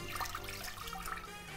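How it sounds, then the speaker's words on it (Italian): Water and milk pour into a small pot on the stove, a soft continuous splashing stream, faint and close, without any voices. "Pentolino sul fuoco, ci vado a mettere acqua e latte"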